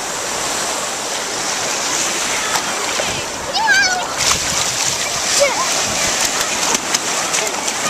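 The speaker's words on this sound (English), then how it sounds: "You're not supposed to splash me." Ocean surf at Brant Beach on Long Beach Island in July washes and splashes steadily throughout. People talk and call out over the continuous water noise.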